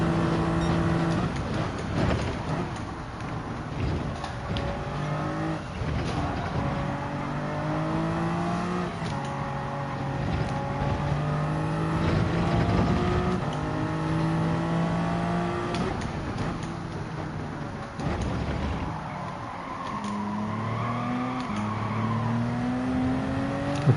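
Toyota Supra race cars in Gran Turismo 7 racing at Spa in a manufacturers' cup event, engines rising and falling through gear changes, with other cars whining nearby and occasional tyre noise, sustained and loud throughout.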